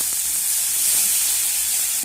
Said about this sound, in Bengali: আদা রসুন বাটা আমি টমেটো আর পেঁয়াজের সঙ্গে মিনিট খানেকের মতো ভেজে নেব